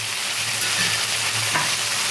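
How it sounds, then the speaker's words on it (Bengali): Shrimp fry in a hot pan with a steady, close sizzle while being stirred, occasional scraping of the spatula rising above the constant crackle, no voices. "এইভাবে আপনারা চিংড়িটা ভেজে নেবেন।"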